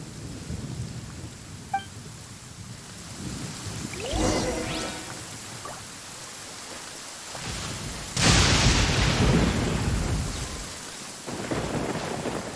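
Thunder rumbles and cracks over steady rainfall in the Genshin Impact video game, with a sharp nearby thunderclap midway and a loud rolling burst later, rain hissing throughout.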